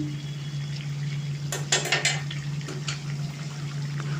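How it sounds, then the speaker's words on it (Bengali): Chicken and potato curry being stirred in a slightly too-small wok over steady bubbling and a low hum, with a short cluster of scraping and clattering strokes midway, close and moderately loud. "এরপর আবারও ভালো করে মিশিয়ে নিচ্ছি"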